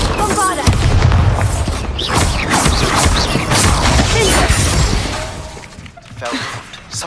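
Loud booming blast with shattering crash from the Bombarda spell in Hogwarts Legacy, a sustained dense explosion that rumbles for several seconds before tailing off, with a brief second burst near the end.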